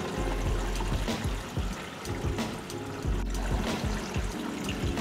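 Water trickles and splashes steadily into a newly set-up Red Sea Peninsula saltwater aquarium, a continuous close pouring sound with gurgles and small drips.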